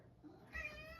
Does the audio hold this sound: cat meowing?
yes